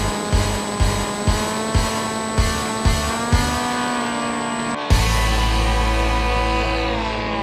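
An FX-61 Phantom RC plane, upgraded with a new motor and an 11-inch propeller, flies in to land. Its electric motor drones with a steady high whine and evenly spaced rhythmic pulses, then the tone abruptly shifts to a smoother, louder hum.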